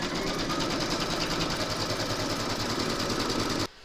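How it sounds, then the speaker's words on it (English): Embroidery sewing machine stitching the first placement outline round in grey thread on a 4 x 4 hoop, a loud, steady, fast mechanical hum and needle rattle running continuously before stopping abruptly near the end. "Load your chosen file into your machine, and then you're going to stitch round number 1"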